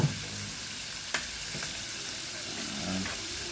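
Papaya going into a frying pan for dinengdeng, a steady close sizzle with a couple of clattering knocks from the pan and utensil.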